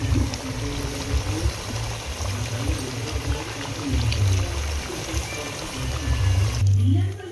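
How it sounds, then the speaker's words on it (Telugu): Tamarind juice poured into a simmering chicken liver curry, a steady liquid pour and gentle bubbling heard close up; no one speaks during the pour. "ఇప్పుడు చింతపండు పులుసు కూడా పోసుకుందాం."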